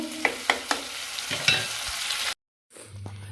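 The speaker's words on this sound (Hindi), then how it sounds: "तो यहाँ पर प्याज सेकने के लिए छोड़ दी हमने" Onions frying in a pan, heard as a close, steady sizzle with several sharp utensil taps early on, then a brief cut to silence before a quieter stretch of cooking noise.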